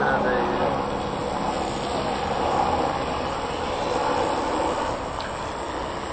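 A model aircraft engine runs with a steady, loud buzzing drone that swells slightly in intensity, while voices talk nearby.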